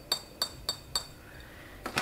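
Glass bottles of a cleaning product clink together four times in an even rhythm, close and crisp, followed by a softer double clink after a short pause.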